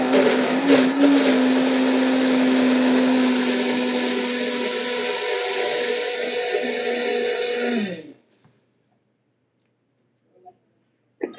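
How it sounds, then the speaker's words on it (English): A countertop blender whirs steadily for about eight seconds as it purées soaked bread, a loud, even motor drone that then cuts off sharply, leaving near silence with a couple of small knocks. "put in the blender the sautéed bihon. Cover, then blend it"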